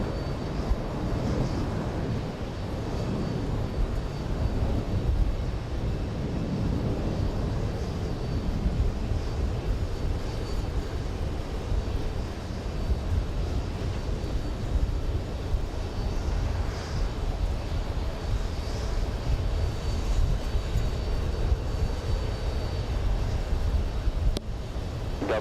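Delta 777 heavy jet airliner taking off at JFK airport, a continuous distant low roar of engines that holds steady throughout, no talk.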